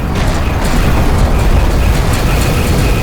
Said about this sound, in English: Alert, a battle cruiser has been destroyed.